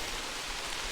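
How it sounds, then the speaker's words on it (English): Heavy rain on a hike, a dense, even hiss of falling water that fills the whole short moment without any break or voice. "rain's picking up"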